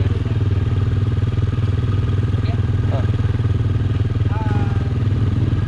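Close, steady drone of an ATV engine idling and rolling on an off-road trail in Krabi, Thailand, a continuous low throb with rhythmic pulsing and faint clatter throughout, with voices heard briefly over it.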